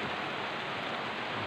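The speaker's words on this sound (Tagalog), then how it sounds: "Tuloy-tuloy lang itong ulan." Steady rain falls on a farm among fruit trees, a dense, even hiss with no pauses and no voices.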